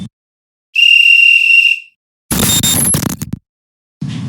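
A master call whistle at the Pakistan Military Academy blows one loud, sustained shrill blast lasting about a second, followed by a short burst of clattering noise and then silence.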